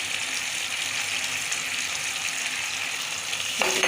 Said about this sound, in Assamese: আপুনি কম জুইত অকণমান ভাজি থাকক।